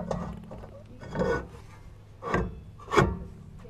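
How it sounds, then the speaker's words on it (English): A rusted rear hub on a 2014-2018 Silverado is sanded by hand in four slow, rasping strokes, close and fairly quiet, with no talking. "And if you have the time, you could sand this down."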